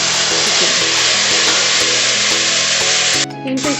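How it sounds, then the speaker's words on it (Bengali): Chicken sizzles loudly in hot oil with onion, ginger and garlic for a chicken stew, a steady broadband frying hiss with small stirring knocks, easing off near the end as the pan quiets. "চিকেনটা একটু নাড়াচাড়া করে নেবো পেঁয়াজ, আদা, রসুনের সাথে"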